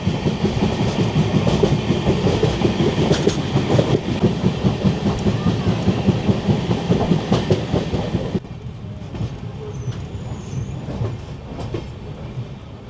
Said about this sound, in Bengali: তো ট্রেনটা এখনও পর্যন্ত কোনো জায়গায় দাঁড়ায়নি, কন্টিনিউ চলছে, কখনো গতি কম কখনো বেশি